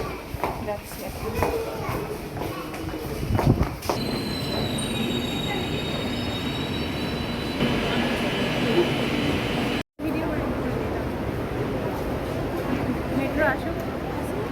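Kolkata metro train arriving at a station, with a steady rail rumble, high wheel squeals partway through and people talking over it.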